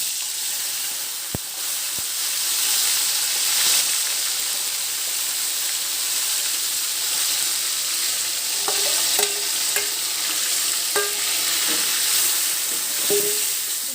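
Chicken pieces frying in hot oil with cinnamon, mace and star anise, a steady loud sizzle and hiss throughout, with a few stirring clatters and knocks near the end.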